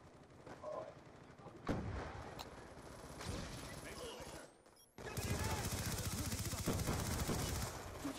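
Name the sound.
gunfight in the video game Call of Duty: Black Ops 2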